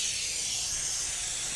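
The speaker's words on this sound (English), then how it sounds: "This is a spray," Caulk Ease spray hisses steadily onto a freshly filled caulk joint on a tub surround of tile-look panels, a close, continuous airy spray lasting just over a second with no talking.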